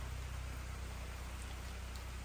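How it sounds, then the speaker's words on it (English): Steady rain falls throughout, a dense, even hiss with soft patter, continuous and fairly close, with no voices over it. "And here comes the rain again."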